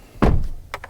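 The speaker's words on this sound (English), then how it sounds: "We'll close this door" A single solid thunk of a car door shutting on a 2024 VW Atlas, close and fairly loud, with a quick decaying rumble and a couple of faint clicks after.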